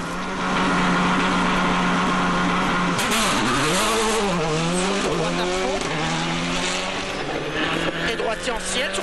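Loeb's rally car on the fast, flowing opening stage of Rally Catalunya in Spain in 2006. The engine revs loudly, rising and falling through rapid gear changes, with tyre noise and a commentator talking over it.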